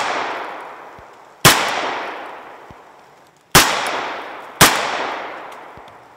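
Gunshots fired through plastic in a ballistic test: three loud, sharp cracks at uneven intervals, each followed by a long, fading echo tail outdoors.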